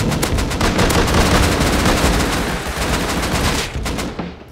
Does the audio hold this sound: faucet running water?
no